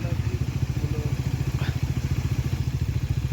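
A column of around forty motorcycles rides in disciplined formation on a waterfall trekking trip. A close, steady rapid engine thumping continues throughout without pause.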